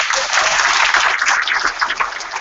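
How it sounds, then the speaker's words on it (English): Audience at a demo day event giving a round of applause, many hands clapping steadily and fairly close, thinning slightly toward the end. "can I get a round of applause for that?"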